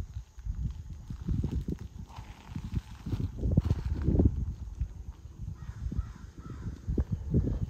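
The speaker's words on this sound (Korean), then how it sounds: "저쪽에 까마귀 떼가 있는 것 같습니다." A flock of crows caws intermittently in the distance over a heavy, gusty wind rumble at a lakeside campsite.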